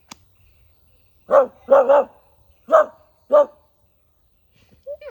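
A voice mimics a dog barking: four short, loud woofs, two close together then two spaced apart, with a faint bit of voice at the end.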